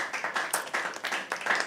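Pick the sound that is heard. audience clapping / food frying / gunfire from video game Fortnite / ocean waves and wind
audience clapping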